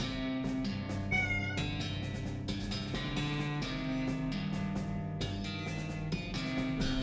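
A cartoon cat meows in the Western comedy video game West of Loathing, its short cries set against a steady, busy bed of game music.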